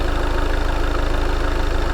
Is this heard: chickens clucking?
no